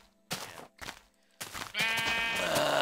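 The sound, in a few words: sheep bleating in Minecraft video game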